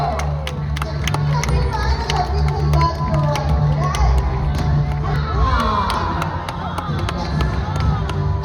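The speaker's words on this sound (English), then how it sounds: "Applause is ready for you." Crowd cheering, shouting and clapping for a young child performing, a loud, steady wall of voices and scattered claps running throughout, with a deep low hum underneath.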